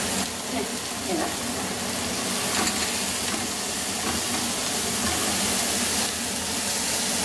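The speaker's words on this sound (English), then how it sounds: "So this is being sauteed." Onions, green chilies, coriander and ginger sautéing in a pan, a continuous dense sizzle and steamy hiss close up, with brief faint talk at moments.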